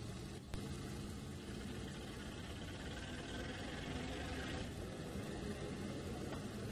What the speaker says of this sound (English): Hear the engines going from gear to gear back there.